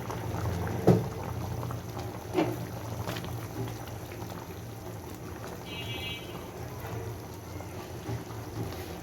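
Chicken soup with milk simmers and bubbles in a pot, a steady low burble close by with a couple of soft clinks of a spoon stirring.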